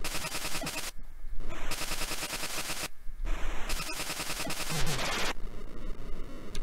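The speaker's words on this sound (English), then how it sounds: "let's go ahead and make use of our smart bombs, which we apparently have loads of" Smart bombs are set off in a video game shooter, producing loud, dense bursts of rapid gunfire-like crackle and static. The bursts are broken by a few sharp cut-offs and brief drops into quieter gaps.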